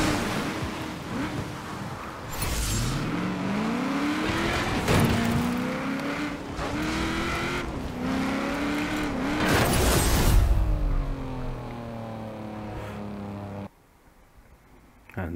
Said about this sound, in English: And that was the sound of a Ford Transit dying.